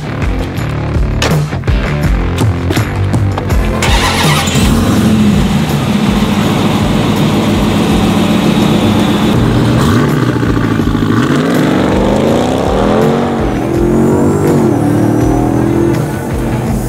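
The big engine of a 1000 hp Hennessey Mammoth Ram TRX pickup roars as it accelerates hard, its pitch climbing and shifting through gears, loud and close for the whole stretch.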